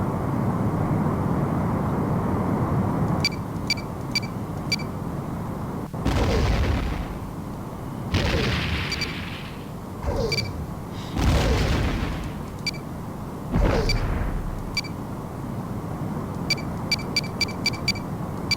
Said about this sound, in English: Enemy ship is firing. Torpedo has reacquired the target.